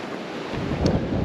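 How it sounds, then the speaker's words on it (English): Wind gusting across a microphone at the top of Mount Tamalpais in Marin County, a steady broadband rush that swells slightly louder near the end, with no voices. "The wind's picked up a little bit."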